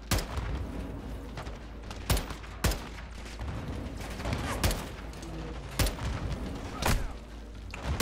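Game gunfire in a Modern Warfare II campaign battle: sharp, loud shots burst out at irregular intervals, about seven distinct cracks over a constant rumbling din of combat, with no talking.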